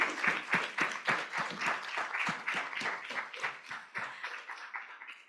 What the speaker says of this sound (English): please stand up and give them a big round of applause